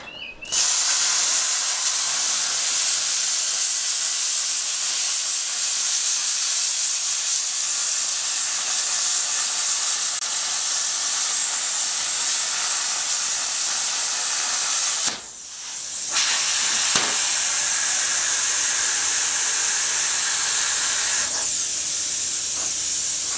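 A Bestarc plasma cutter slicing through stainless steel gives a loud, steady high-pitched hiss, broken once by a short pause before the cutting hiss resumes.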